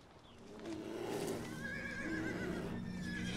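Horses whinny loudly with rising, wavering neighs, one after another, over a busy background of movement and faint hoofbeats.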